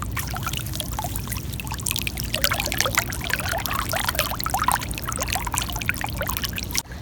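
Water gushing out from beneath grass after a flood, forced up under pressure, a steady close pouring and trickling rush with spattering bubbles over a low rumble, continuous throughout.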